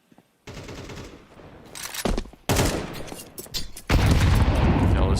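Rapid bursts of gunfire in Counter-Strike during a professional esports match, sharp loud volleys and rifle shots in clusters with near-continuous firing at the end, under a commentator's voice.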